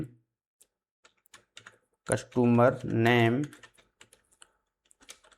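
Someone types data into an Excel spreadsheet on a computer keyboard, with sparse, close, crisp key taps scattered across the moment and a brief spoken phrase in the middle.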